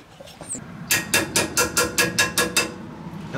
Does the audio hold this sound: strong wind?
no